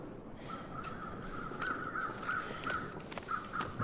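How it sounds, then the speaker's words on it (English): Crows caw repeatedly in The Long Dark, a string of harsh calls over a steady windy wilderness background, some louder and closer, others fainter. "There's more crows."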